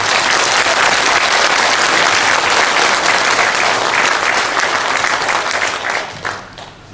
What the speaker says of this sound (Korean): 우리 자축의 박수를 한번 칩시다